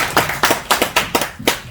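Hands clap at an exam success-story gathering in a quick, even rhythm of about seven crisp, close claps, with no talk.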